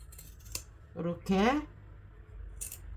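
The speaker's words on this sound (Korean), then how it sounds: "가위밥을 내어 주겠습니다." Sewing scissors snip notches into the seam allowance of a fabric vest's shoulder seam, a few crisp close cuts heard around a speaker's voice.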